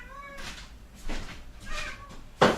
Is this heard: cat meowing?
yes